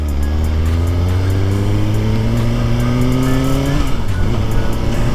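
A 2023 Suzuki GSX-R1000 motorcycle on its first ride roars loudly at close range, its engine pitch climbing steadily through a gear, then dropping as it shifts and pulls again.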